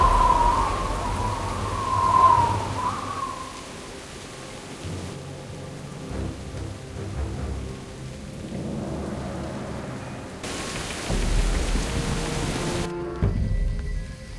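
Steady rain in Jurassic Park: The Game hisses throughout, heavier at times, with low rumbling underneath and a brief high tone early on; no voices.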